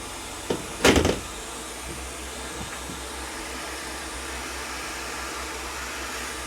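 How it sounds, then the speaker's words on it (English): A hot air rework station set to 400 blows a steady, soft hiss of hot air at a Vizio TV mainboard chip. A brief knock sounds early on, and there is no talking. "Make sure that's hot air coming out."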